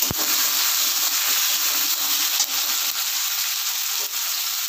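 Chopped tomato hits hot oil in a pan for a vegetable dal and sizzles loudly and continuously, with a soft stirring scrape near the start.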